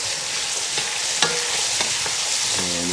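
Garlic for Texas chili sizzles steadily in a hot pan, a loud, close, continuous frying hiss with a few soft stirring clicks.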